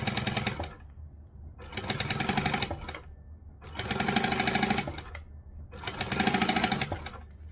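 A sewing machine stitches fabric in four sustained bursts separated by short pauses, its rapid mechanical chatter loud and close while a small project is sewn in small sections.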